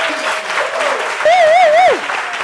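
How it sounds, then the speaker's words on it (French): Studio audience applauding a guest on a talk show, full steady clapping under a sung or whooped melodic voice that rises over it midway. "Applaudissements pour Herman, s'il vous plaît"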